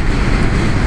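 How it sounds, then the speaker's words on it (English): Heavy, constant wind buffeting while riding a BMW R1250RS motorcycle through Texas Hill Country, loud and close with a dense low roar. "Getting full wind here."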